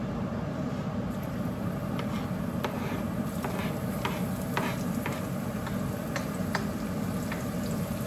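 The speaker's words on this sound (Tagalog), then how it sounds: "igigisa ko na yung bawang" Garlic sautéing in a pan for pinakbet: a steady, close sizzle of hot oil with scattered light clicks of a spatula stirring, constant and moderately loud throughout, no talking.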